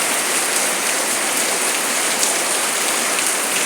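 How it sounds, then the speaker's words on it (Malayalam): Steady, dense rain pours down on a home courtyard, a close, even hiss of drops hitting the ground and surfaces with no thunder and no other sounds. "അടിപൊളി മഴ. ഇപ്പം ഇടിയൊന്നുമില്ല."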